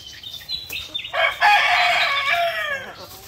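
Asil and shamo chickens cluck and a rooster crows once loudly and close while being fed, the crow stretched over about a second and a half amid short clucks.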